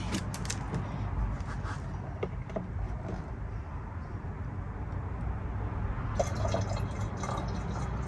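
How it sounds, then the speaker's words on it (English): Distilled water pours into the coolant reservoir of a Ford Expedition, a steady close liquid fill with faint drips and splashes that runs continuously throughout, heard alone without talk. "let's go ahead and add a distilled water this time."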